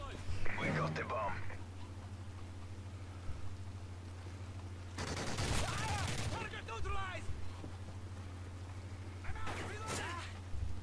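Gunfire in the video game Call of Duty Modern Warfare 3, short bursts of shots early, midway and near the end over a steady low hum, with players talking in between.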